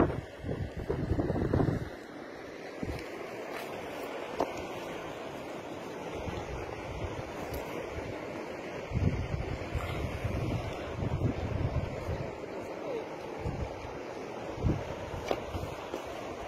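Steady rushing flow of the Coralaque river mixed with gusty wind buffeting the microphone, a broad continuous wash with louder swells at the start and in bursts later, with no talking.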